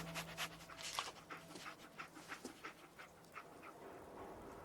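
A dog, Dogmeat from the video game Fallout 4, pants in quick, steady breaths, close and fairly quiet, with a faint whimper mixed in and no speech.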